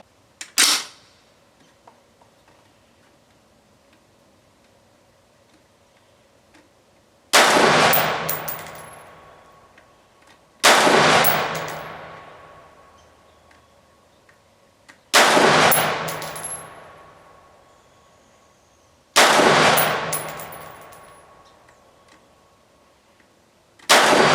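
An AR 601 rifle fires during ammo testing: five sharp, loud single shots a few seconds apart, each ringing out with a decaying echo in open air, no talk.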